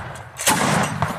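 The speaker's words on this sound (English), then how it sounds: "We now see he's going to fire it like a rifle in very small bursts." A tripod-mounted machine gun fires one short burst, a sharp loud crack with a dense rattling tail that rings on for most of a second, after a brief quiet lead-in; no one speaks.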